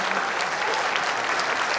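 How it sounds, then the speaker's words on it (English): Dense, continuous crowd applause after a wheelchair rugby league match between New South Wales and Queensland, loud and even throughout. "How about a big round of applause for all of the players?"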